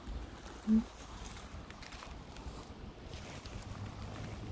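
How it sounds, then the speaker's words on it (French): Steady wind blowing by the sea, a low continuous rushing with gusty rumble on the microphone and one brief thump early on. "le vent il souffle beaucoup"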